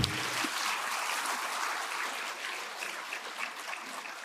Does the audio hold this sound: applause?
yes